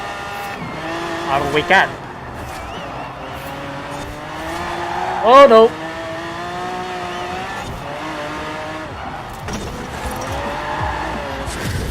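A Chevelle Super Sport races in Forza Horizon 4, its engine droning steadily with rising and falling revs and brief tire squeals, while a person talks over it.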